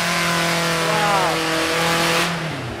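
An old Jeep Cherokee with worn-out tires revving its engine, a strained, buzzing whine that climbs and holds steady, heard close and loud for a few seconds under a brief remark from a voice.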